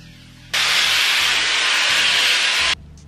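A Shark Flexstyle hair dryer with a paddle brush attachment blowing air, a loud close steady whoosh that switches on abruptly and runs for about two seconds before cutting off, with a faint low hum before and after.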